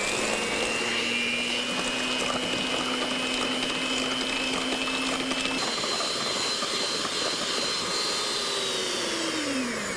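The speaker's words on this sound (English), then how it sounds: "we're going to blend it with a hand mixer" Hand mixer whipping heavy cream and sugar toward soft peaks: a loud, continuous motor whine close by, steady throughout with a slight shift in pitch midway and falling off near the end, no talk.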